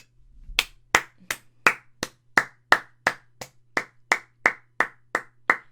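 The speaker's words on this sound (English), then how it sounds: "That is applause, not something else." Hands clapping in a steady, fairly quick rhythm, about fifteen sharp claps over a few seconds with a faint low hum beneath, celebrating a hat-trick goal in a FIFA 21 Hull City football match.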